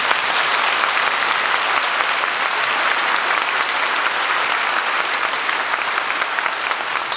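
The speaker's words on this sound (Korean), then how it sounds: "한번 박수 한번 부탁드립니다." A congregation at a church dedication worship service breaks into dense, continuous applause, a loud, even wash of many hands clapping at once that holds steady from start to finish without talking.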